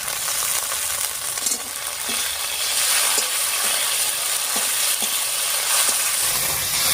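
Coriander, cumin, dried chili and onion pastes fry in a pan for a jackfruit curry, giving a steady close sizzle with soft scattered clicks of stirring and no voices.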